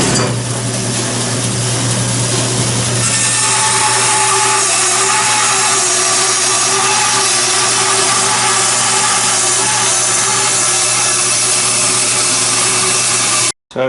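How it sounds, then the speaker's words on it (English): Bandsaw cutting out a wooden thwart for a small wooden boat, a loud continuous whine and rasp of the blade through timber that holds steady, then cuts off abruptly at the end. "I'm just going to cut it out in the bandsaw and clean it up"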